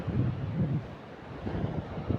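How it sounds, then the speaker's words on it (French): Seaside ocean waves wash in under gusting wind buffeting the microphone, a low rumbling surge that swells and eases over a couple of seconds with no voices. "Oh, les vagues!"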